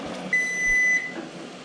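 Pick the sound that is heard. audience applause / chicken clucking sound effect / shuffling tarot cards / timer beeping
timer beeping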